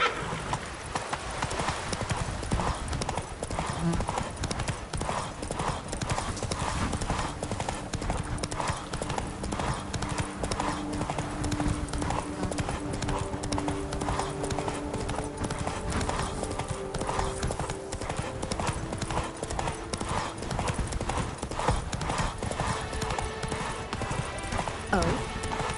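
Roach, a horse in The Witcher video game, gallops with a steady, continuous clip-clop of hooves throughout, mixed with game music and ambient sound, with a brief whinny-like tone and no spoken words.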